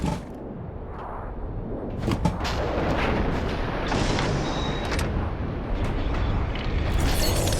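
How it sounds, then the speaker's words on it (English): A reactor detonation explosion aboard the Talos 1 space station in the video game Prey, a loud, sustained rumbling roar with heavy booms and debris crackle lasting several seconds. "Warning, reactor detonation imminent."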